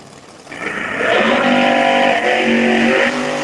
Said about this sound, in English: Pretty sure it's a Charlie Buck racing engine motor in it.